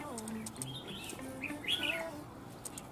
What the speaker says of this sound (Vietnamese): Con này chim già đấy.